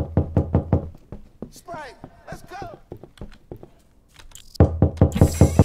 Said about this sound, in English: who's knocking on my fucking door?